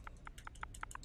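Typing on a computer keyboard, six or seven crisp, evenly spaced key clicks in a quick steady rhythm, close and quiet.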